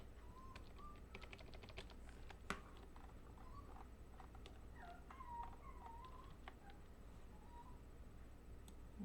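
Soft, faint dog whimpers drift through a quiet room, several short high whines spread across the clip, mixed with light clicking and tapping nearby.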